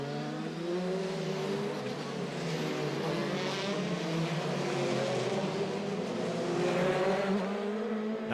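An FIA F3 European Championship race car at full speed on track, its high-revving engine whining steadily with rising and falling harmonic tones as it rattles over a curb, loud and continuous.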